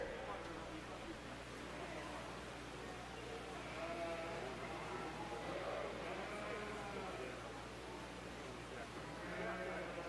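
Sheep, including Suffolk ewes, bleat in a 4-H fair show ring, with several bleats rising over a steady murmur of background voices and arena noise.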